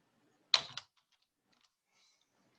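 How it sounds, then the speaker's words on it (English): Two quick keyboard clicks sound close by, one right after the other, then near silence. "let me try typing in that address again"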